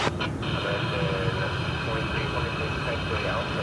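An airliner on flight 1729 to Fresno roars at DFW Airport, its steady broadband engine rush filling the scene, with a brief clatter at the start.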